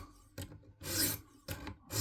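Light push strokes of a sharpening stone in a carrier drawn across a blade edge to remove the burr, three or four short rasping passes separated by brief pauses, close and clear with no voices.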